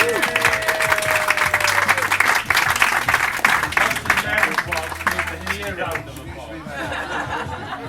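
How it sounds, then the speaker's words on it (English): Wedding guests break into applause with whoops and loud crowd chatter mixed in, a dense, steady clapping that holds for several seconds before easing slightly toward the end. "Give him a round of applause."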